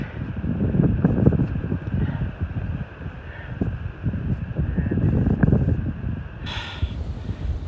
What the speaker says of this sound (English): Wind's blowing pretty hard, so I won't get on the edge.